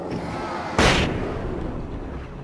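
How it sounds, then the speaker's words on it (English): A single sharp video game gunshot-like blast cracks out over a steady background rumble, then fades quickly. "That sounded like gunshots, flashbangs."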